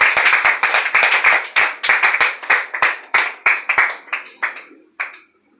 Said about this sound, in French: Est-ce que tu peux acclamer très fort le Seigneur ce matin?